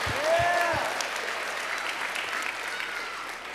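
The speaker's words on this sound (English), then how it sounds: "Let's give one more round of applause for Adam Fry." An audience at a Mr. Carmel 2023 pageant claps in a steady round of applause that holds fairly even across the whole stretch, with a few whistles near the start.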